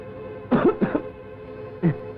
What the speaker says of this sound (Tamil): இருமல்ண்ணே.